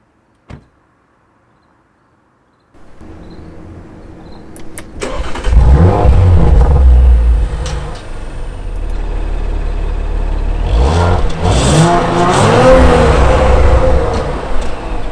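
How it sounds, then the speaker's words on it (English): A 2018 Audi RS5 with a turbocharged engine starts up after a click and a short pause, then the exhaust roars loud and close through several rising revs that settle into a firm, steady idle. "start the car, give you guys a sense of what this exhaust sounds like"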